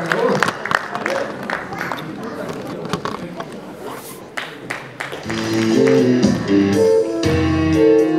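A concert audience applauds as a mothers' choir is introduced, scattered clapping and crowd chatter at moderate level, giving way partway through to sustained tones and voices.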